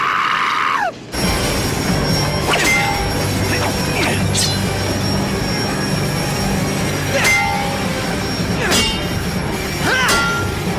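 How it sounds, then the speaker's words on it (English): An out-of-control cartoon train rumbles and clatters steadily, with repeated squealing wheel screeches and metallic clinks rising above the roar, and a voice speaks briefly at the start. "That train isn't slowing down! It's out of control!"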